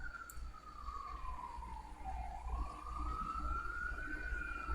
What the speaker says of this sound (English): I'm sorry about the ambulance. I'm waiting for that to pass.